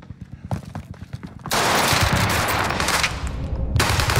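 Call of Duty gunfire: scattered single shots at first, then a sustained, loud roar of automatic fire that fills the rest, with a fresh burst near the end.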